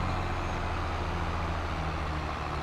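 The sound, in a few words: tractor engine in a farming video game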